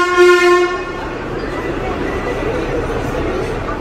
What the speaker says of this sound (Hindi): बस थोड़ी देर में ट्रेन आने वाली है। आ गई गाइस ट्रेन।